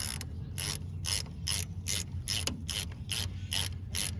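A hand ratchet tightens a brake hose fitting on a 1983–95 two-wheel-drive Ford Ranger front brake, a close, rhythmic series of about nine sharp clicking pawl strokes with no talking.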